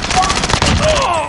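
A loud burst of rapid gunfire rattles through a Warzone match, continuous shots packed close together under overlapping player voices.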